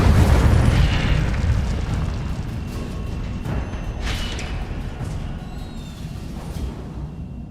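Incendio fire spells are cast in the game Hogwarts Legacy, a big burst at the start followed by a rolling, crackling roar with a few sharper whooshing flares spaced through several seconds, loud and dense, with no speech.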